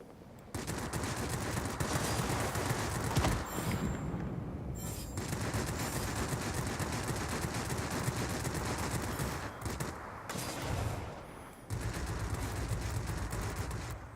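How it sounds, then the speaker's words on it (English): Rapid machine gun fire from aircraft tail gunners in a flight combat video game, long rattling bursts broken by brief pauses, fairly quiet overall. "I'm getting shot up by the tail gunners"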